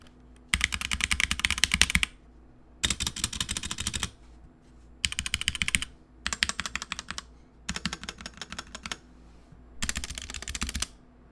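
Clicky mechanical keyboard typing in six bursts of rapid keystrokes, each lasting about a second or two, separated by short pauses; close and crisp, no talking.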